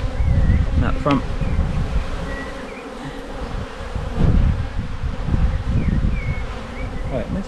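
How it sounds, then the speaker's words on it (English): Honey bees buzzing around an open hive during an inspection, a dense steady drone close by with individual bees whizzing past, plus occasional handling thumps and no talking. "there's a good spread of bees in here"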